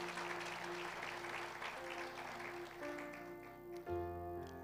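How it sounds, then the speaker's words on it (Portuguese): Steady applause from a church congregation fills the clip, fading slightly near the end while a sustained musical tone plays underneath. "Quem pode dar um aplauso depois ao Senhor?"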